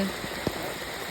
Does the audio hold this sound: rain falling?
yes